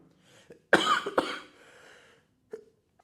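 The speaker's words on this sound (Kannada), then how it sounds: "ಇನ್ನೂ ಕೆಮ್ಮು ಕಡಿಮೆ ಆಗಿಲ್ಲ" One person with a lingering cough coughs in a short burst of two harsh coughs close to the microphone, followed by a breathy exhale and a faint throat sound; no talk.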